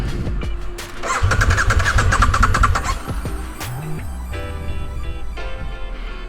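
A KTM motorcycle engine cranking and trying to restart after stalling, with a loud sputtering catch that briefly revs, then dies back to a rough idle-like drone, close up with no talk.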